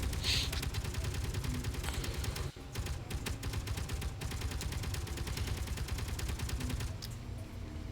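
Sustained rapid-fire gunfire in the video game Space Engineers, a dense, evenly spaced stream of sharp shots rattling on for several seconds with a short gap partway through.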